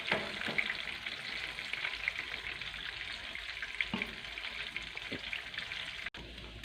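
Homemade chicken frying in hot oil, a steady dense sizzle and crackle heard close up, with a few soft clinks and stirring knocks and no talking.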